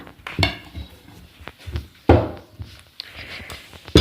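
Dishes and plates clattering as rotis are served at a home dining table: scattered sharp clinks and knocks of crockery and utensils, some louder thuds, irregular and close by with no talking.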